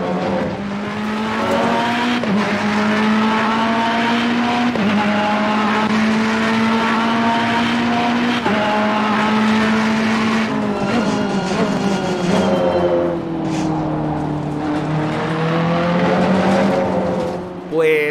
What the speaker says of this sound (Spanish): me he dado cuenta de lo bien que suena este nuevo Ferrari con esta cámara